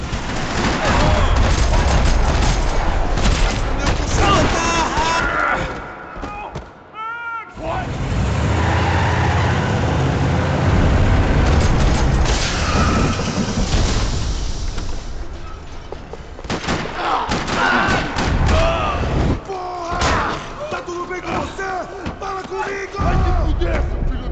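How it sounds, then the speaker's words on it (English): In the game Max Payne 3, bursts of rapid gunfire crackle across a parking lot through a dense, loud mix of game noise, with a brief lull partway through before the shooting picks up again. "Another parking lot rattling with gunfire."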